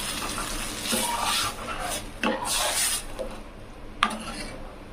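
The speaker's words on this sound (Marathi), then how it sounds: "आपल्याला अजून पाणी टाकायचं होतं तर अजून एवढं पाणी टाकायचं" Water is poured into simmering village-style urad dal amti made with green masala, giving a few soft splashing, rushing bursts over a steady low background with no talk.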